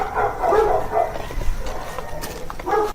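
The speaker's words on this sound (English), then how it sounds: "Dog howls can be heard resembling the crying" A dog sends out wavering, crying howls and yelps into the night, loud and fairly close, rising and falling in several bursts over a low background hum, with no voices.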